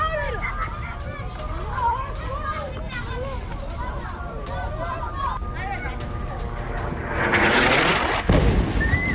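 At the Nuseirat refugee camp in Gaza, crowd chatter and children's voices fill the air until a heavy explosion erupts near the end, a loud, sustained blast rolling over the voices.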